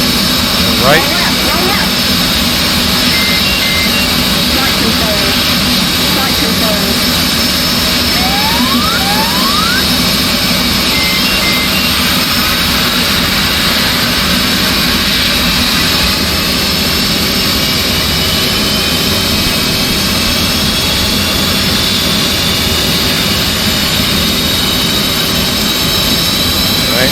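F/A-18C right jet engine running steadily during a cold-and-dark startup, a loud continuous roar with a high whine throughout, close by, while a person talks over it.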